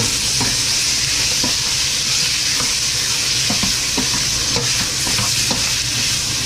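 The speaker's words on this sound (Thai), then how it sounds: "แล้วก็กระดูกหมูไปเลย กระดูกหมูลงไปคั่ว จนหอมไปเลย" Pork bones stir-fry in hot oil for a northern Thai nam ngiao soup, giving a steady loud sizzle with a spatula scraping and clicking against the pan.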